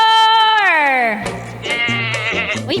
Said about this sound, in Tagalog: Uy, may kambing.